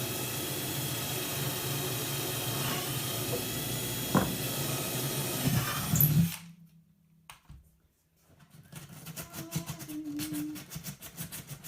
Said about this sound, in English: drilling the other holes for the pins to go in